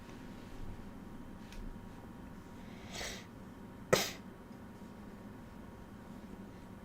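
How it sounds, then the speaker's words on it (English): A single sharp cough rings out near a quiet, noisy background, with a softer breathy throat sound just before it. "Sniffling, sneezing, coughing."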